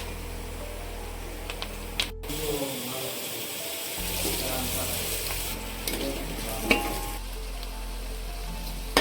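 Onion roasting in a pan with cumin and curry leaves for a village-style stuffed brinjal curry, giving a steady low sizzle with occasional stirring scrapes and a brief knock, no talking.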